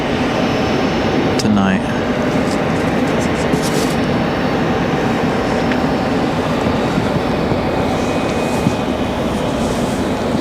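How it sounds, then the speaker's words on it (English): A Boeing 777 jet departs Raleigh-Durham International, a steady, broad roar that holds evenly throughout, with a voice speaking briefly near the start. "777 departure sounds amazing from here"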